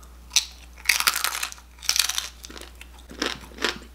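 Bites into air-fried crispy pata, a Filipino crispy pork knuckle, give several loud, close crunches in irregular bursts, each crackling sharply and then fading, with no talking.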